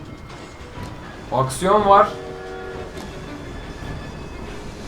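Train ride in the video game Assassin's Creed Syndicate, a steady rolling rail rumble beneath a player's voice, with a short loud burst of talk in the middle.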